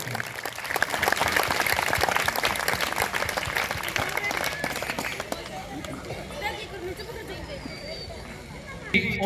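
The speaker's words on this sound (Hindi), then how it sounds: "तालियां लगाओ।" A school audience at a government school event in Dhaba claps loudly and densely for several seconds, then the applause thins out into crowd chatter and voices.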